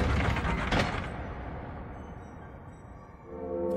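A mechanical grinding clatter of a lever and gears in Dark Souls turns for about a second, then fades, followed by a ringing bell tone starting near the end.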